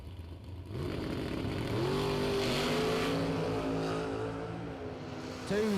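Drag race cars launch down the strip at a track event, a loud sustained engine roar with rising harmonic tones as they accelerate away, steady and fairly distant with no talk.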